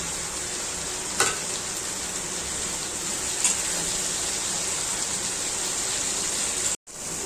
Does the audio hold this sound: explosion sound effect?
no